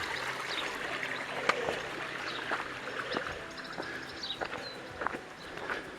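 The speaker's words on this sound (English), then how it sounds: "It's the first of two braids of the Kaituna River you have to go over." A braid of the Kaituna River on the valley track to Packhorse Hut, a low-flow stream trickling and babbling quietly while scattered footsteps or knocks on stones sound nearby.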